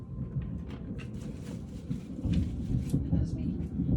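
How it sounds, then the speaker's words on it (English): Low, rumbling thunder rolls steadily through a dark indoor space, swelling slightly louder in the second half, with faint clicks and rustles on top and no speech. "As we hear that thunder rolling"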